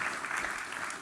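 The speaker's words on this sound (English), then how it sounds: "A round of applause." A conference audience gives a round of applause after a talk on orchestral scoring for games, dense steady clapping filling the whole moment.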